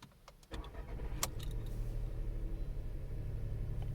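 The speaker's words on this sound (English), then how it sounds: "So now let's start the car and listen to the engine notes from inside." Inside a 2020 Volkswagen Polo with a 1.0 TSI three-cylinder engine, a key turns, the starter cranks briefly and the engine catches into a steady low idle thrum.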